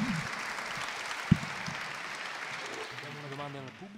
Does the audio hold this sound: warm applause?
yes